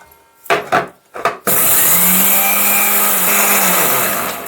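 A kitchen grinding machine whirs as it grinds roasted, cooled cumin seeds into powder; a few short rubbing knocks come first, then a loud, steady motor drone carries on to the end.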